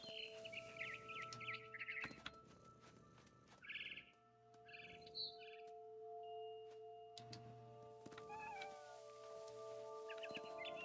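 A cat meows repeatedly in the video game What Remains of Edith Finch, with clear, fairly close calls in short bursts over a quiet ambient bed and a few chirping bird calls.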